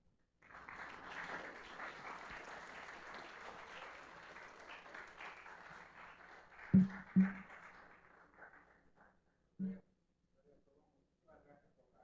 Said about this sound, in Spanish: Le damos la bienvenida, un aplauso por favor.